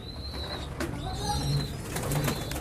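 Pigeon squabs from stock stamped by a French company coo softly up close while being handled, with a few brief flutters and rustles.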